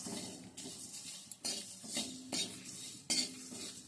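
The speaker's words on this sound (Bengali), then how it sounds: "এইভাবে অনবরত নাড়তে হবে তা নাহলে কিন্তু তলাটা পুড়ে যাবে" A metal spoon scrapes and clinks against a pan as dry spices for a homemade vegetable masala are stirred continuously, with rhythmic scraping strokes in close, fairly quiet bursts and no talking.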